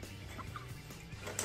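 Eight-week-old chickens, meat and dual-purpose breeds, cluck softly and intermittently up close over a steady background hum, with brief chirps, no talking.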